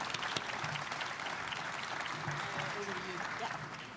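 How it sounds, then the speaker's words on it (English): Audience applause at a GEOINT 2021 government hub panel on AI initiatives, a steady wash of clapping that runs the full length at moderate level, with some voices faintly mixed in underneath. "let's begin by giving everybody a round of applause"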